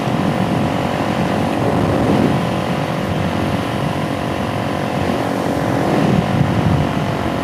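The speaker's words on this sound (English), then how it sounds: "Now I definitely could be riding this bike a lot harder than what I do" Suzuki DRZ dual-sport motorcycle riding in cold weather, its engine droning steadily and loudly throughout with constant wind rush and no talk.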